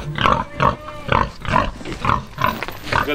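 Pigs grunting in a steady series of about seven loud, close grunts, evenly spaced roughly every half second.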